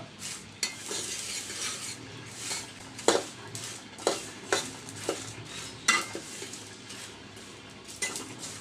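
Whole spices for shahi masala stirred in a dry pan over low heat, with repeated close scraping strokes of a spatula and dry rattling of seeds against the metal in an uneven rhythm.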